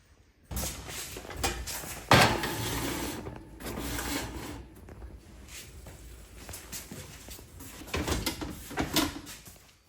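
A baked French toast casserole goes into the oven: nearby scraping and sliding of the oven rack and door, with a sharp clunk about two seconds in and further shuffling rubs, no voices.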